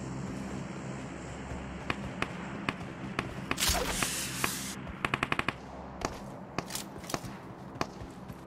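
Rapid bursts and single cracks of gunfire in the PUBG Mobile battle royale game, several clusters of quick shots spread across the clip over a steady game background, with one louder blast near the middle.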